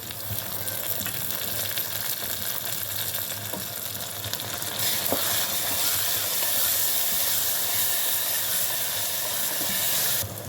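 Ginger garlic paste and onions fry in plenty of oil for a mutton gongura curry, giving a loud continuous sizzle and hiss with faint stirring clicks throughout.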